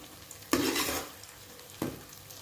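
Chicken Schezwan fried rice being stir-fried on high flame in a pan: a loud burst of sizzling as the spatula scrapes and tosses, fading, then a second stir with a fresh sizzle, close by.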